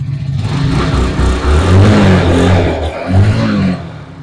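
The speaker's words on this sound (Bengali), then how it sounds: "ইঞ্জিন সাউন্ড তো মোটামুটি ভালো আছে ভাই" A Glamour 125 motorcycle engine idling close by and loud, then revved in a few rising surges that fall back to a steady rumble.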